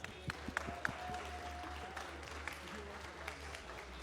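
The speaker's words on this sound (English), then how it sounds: "Round of applause." Moderate applause from an audience at a tournament grand final, steady and fairly brief, over a low electrical hum, with faint voices.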